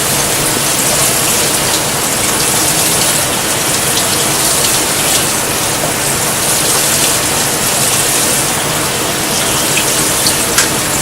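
Cold tap water pours from a faucet over a pot in a kitchen, a loud, continuous, close rushing hiss that stays steady for the whole stretch.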